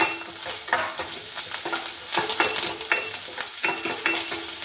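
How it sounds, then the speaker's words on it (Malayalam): Shallots, green chillies and curry leaves sauté in hot oil after mustard seeds, a steady close sizzle with repeated scraping stirs of a spoon across the pan. "ചെറിയ ഉള്ളി അരിഞ്ഞ് വെച്ചിരിക്കുന്നതും പച്ചമുളകും കറിവേപ്പിലയും കൂടിയിട്ട് വഴറ്റിയെടുക്കാം"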